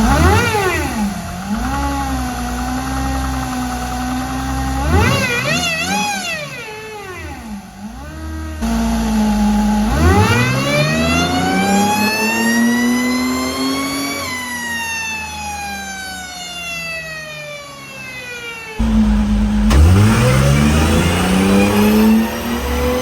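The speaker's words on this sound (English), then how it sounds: "Fifth test is going to be turbo setup, all connected with the supercharger with a smaller supercharger" Mercedes diesel engine in a 1952 GMC fitted with both a turbo and a supercharger with a smaller supercharger pulley, revving repeatedly with rising and falling whine and whistling boost, loud and close, no talking.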